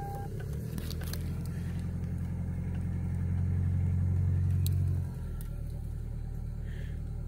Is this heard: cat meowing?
no